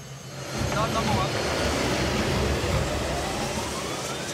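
Loud, steady roar of a Canadian multi-role F-18 Hornet fighter jet arriving at an air base in Quebec, swelling in after half a second and holding as a continuous broadband rush with no talk.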